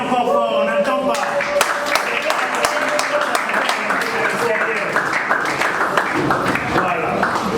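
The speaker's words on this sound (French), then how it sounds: "Donc applaudissez encore fort, on n'entend pas." Audience applause at a French-speaking school or faculty ceremony, a crowd clapping loudly and continuously throughout with scattered voices and cheers mixed in.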